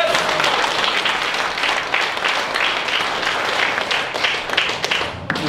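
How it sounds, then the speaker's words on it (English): Church congregation applauding in praise, a dense continuous wash of clapping filling the room at steady volume throughout. "Somebody ought to give God a hand of praise."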